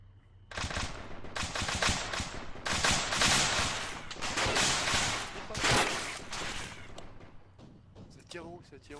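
Heavy military gunfire in the combat game ArmA 3, with dense overlapping bursts and thumping shots that roll on for several seconds, close and loud, before tapering off under faint voices.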